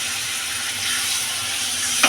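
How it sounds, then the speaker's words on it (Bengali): Spice paste cooking in oil in a pan for chicken methi gives a steady, moderately loud sizzle with a faint continuous hiss throughout and a brief sharper crackle near the end. "দিয়ে ভালো করে কষিয়ে নেব।"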